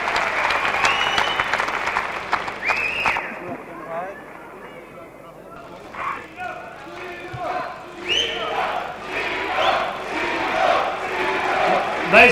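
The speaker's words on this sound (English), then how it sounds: "I think Ziyo deserves a round of applause" A crowd at a kickboxing event applauds and cheers, loud and sustained, dipping briefly before rising again with shouts, while voices talk over the noise.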